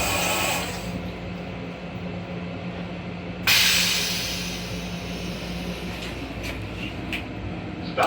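Metro-North M7 commuter train running, a steady low rumble with broadband hiss heard from inside the car, a brief louder surge of rushing noise midway, then faint clicks and squeaks.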